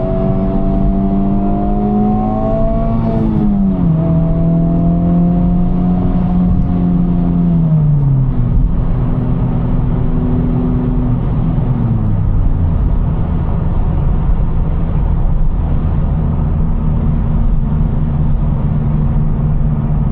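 A Honda Civic Type R FL5 accelerates uphill, its engine loud and close, droning and climbing in pitch, then dropping with each gear change before settling into a steady, strong pull.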